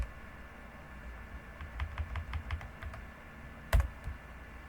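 Quick bursts of keyboard typing, a cluster of rapid key taps followed by a sharper clack, close by with no speech.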